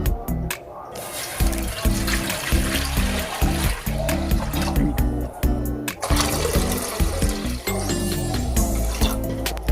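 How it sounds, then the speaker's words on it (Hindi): Twelve glasses of water are poured one after another into a cooking pot on a lit stove, the splashing gushes coming in repeated bursts beneath loud, rhythmic background music. "इसमें हम अभी 12 ग्लास पानी डालेंगे।"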